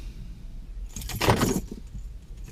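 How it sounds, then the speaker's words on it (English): A bunch of keys gives a short metallic jangle for about half a second over low outdoor rumble at a carp-fishing spot. "There goes my keys."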